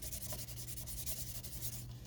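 Steady scratchy rubbing of an ink pad across paper pieces to distress and age them for a journal page, close and continuous for two seconds with faint hum beneath.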